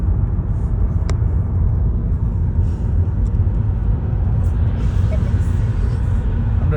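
A car drives along a road in Canada, right beside the open USA border, with a steady loud low road rumble throughout and a brief sharp click near the start.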